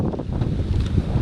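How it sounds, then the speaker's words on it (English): Strong wind gusting around a tree about 10 feet up, a steady broadband rush with low buffeting roar close to the microphone, unbroken throughout. "So the wind's always stronger, higher you go."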